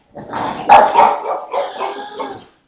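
A dog barks loudly and close up, a quick run of several yipping barks with a slight growl, alone in a quiet indoor setting.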